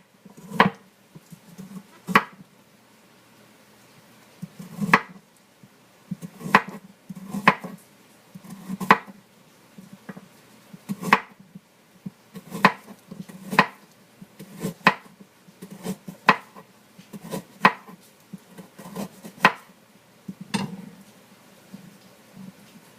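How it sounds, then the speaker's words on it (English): Carrots being chopped on a board for carrot-apple-ginger juice: sharp, irregular knife thuds at close range, with short pauses between strokes. "look at these beautiful carrots"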